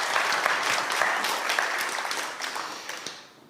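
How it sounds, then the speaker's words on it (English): A quick round of audience applause for two people, dense and fairly loud from the start, staying steady for about three seconds before thinning and fading out. "Can we just have a quick round of applause for those two?"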